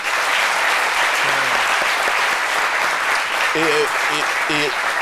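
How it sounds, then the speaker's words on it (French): Sustained applause from a large audience at a music tribute broadcast, dense and steady throughout, with a few brief tonal voice-like sounds rising near the end. "Donc vraiment, applaudissez pour Boni, parce que..."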